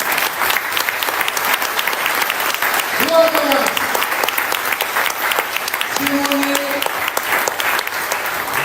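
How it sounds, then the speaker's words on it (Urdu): Audience applause at a political ceremony in the USA, a steady dense wash of clapping filling the room throughout, with a voice speaking briefly over it. "آپ دل سے تالیاں بجائیں تاکہ میسج جائے"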